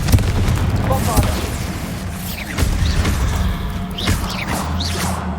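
Spell blasts from Confringo and Bombarda in Hogwarts Legacy boom and crash in several separate bursts over steady game noise, with a voice speaking between the hits.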